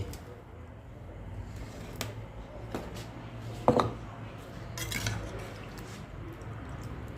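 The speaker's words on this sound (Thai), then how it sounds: "ตักใส่ถ้วยกันเลย" A fish dish being ladled from a pot into bowls, with a few soft clinks and one sharper clatter of a ladle against crockery, quiet over a low background hum and faint talk.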